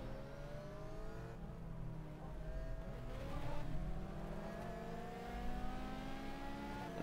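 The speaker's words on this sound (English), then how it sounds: "That Ferrari does sound pretty sick" A Ferrari GT race car engine in the racing game GTR2 drones steadily at Magny-Cours, its pitch climbing through gear changes, heard fairly faintly and continuously.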